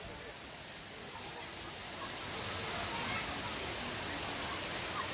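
Devchuli waterfall in Nawalpur, a steady broadband rush of falling water that swells slightly louder partway through, constant and hissing with no clear breaks.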